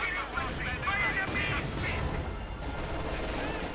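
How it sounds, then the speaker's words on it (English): Anti-tank guns firing in the Company of Heroes 2 strategy game, a dense continuous barrage of battle noise with overlapping shots and impacts, with game speech layered over it. "Anti-tank opening up down the Panther 4."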